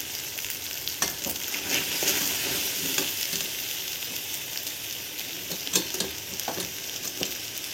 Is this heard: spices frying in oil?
yes